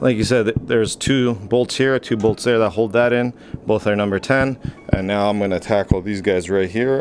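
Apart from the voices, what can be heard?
No everyday noises stand out.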